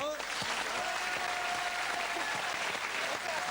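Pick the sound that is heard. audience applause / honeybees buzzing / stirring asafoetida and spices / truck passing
audience applause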